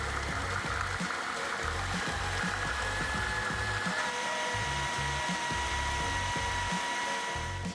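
A food processor blends a falafel mixture with parsley at a camp kitchen, a loud continuous whirring motor with rattling chunks that runs without a break for the whole stretch and has no talk over it.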